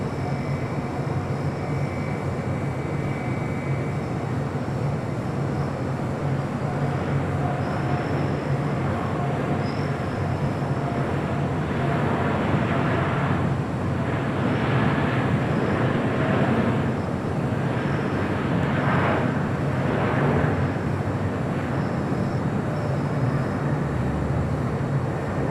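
An Aeromexico Boeing 787 Dreamliner rolls down runway 25 right at LAX on its takeoff run, a steady loud broadband jet roar that swells slightly midway and holds throughout, with no voices.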